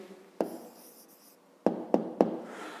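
A pen writes an answer to a fifth-grade math problem on paper, giving soft continuous scratching broken by four sharp taps, close and quiet with no talk.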